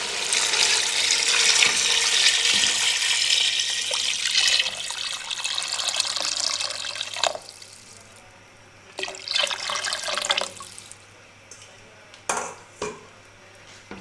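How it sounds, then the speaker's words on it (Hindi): Water poured into a pot of fried beef for yakhni pulao, a steady, loud rushing pour for several seconds followed by quieter splashes and a few sharp clinks of the pot. "अब इसमें हम 6 प्याले पानी डाल देंगे"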